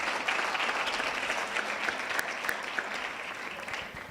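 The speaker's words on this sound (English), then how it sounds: "So let's really give them a round of applause once again." A crowd at a Polokwane breakfast event welcoming Miss South Africa 2022 claps in a sustained, even wash of applause, with a few sharper individual claps standing out near the front.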